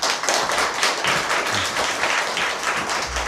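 Applause rises from an audience welcoming a professor to the podium at an academic seminar, a dense wash of clapping that holds steady throughout at moderate level with no speech.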